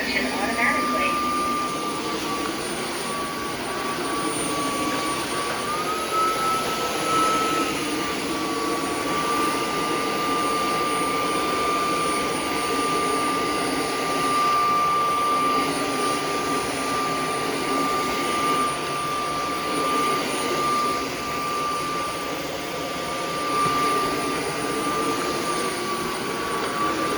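A UWANT D100 robot vacuum cleaner runs its suction with a steady, droning whir and a sustained high whine for nearly half a minute, close by and constant.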